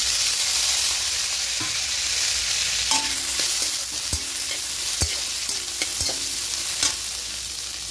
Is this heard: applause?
no